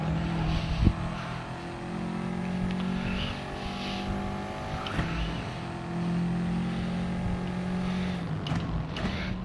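A Subaru lapping the Laguna Seca race track, its engine droning steadily from inside the car with rising and falling pitch through gear holds, plus a few sharp knocks and thumps.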